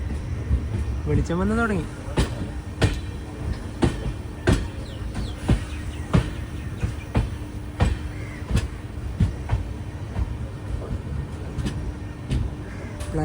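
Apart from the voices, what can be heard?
Kanniyakumari–Rameswaram Express train arriving at Rameswaram station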